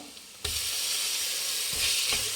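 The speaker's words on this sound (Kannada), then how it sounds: "ಟೊಮೊಟೊ ಹಾಕಿ ಚೆನ್ನಾಗಿ ಬೇಯಿಸ್ಬೇಕು ಫ್ರೆಂಡ್ಸ್" Tomatoes hit hot oil in a pan for an egg rice dish, setting off a sudden loud, steady sizzle that fills the rest of the moment close up, with no voices.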